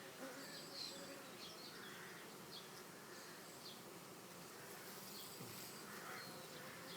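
Dense honeybee buzzing rises from a hive frame pulled from a nurse colony overcrowded with bees, a steady close swarm hum with scattered louder passes of individual bees, no voices.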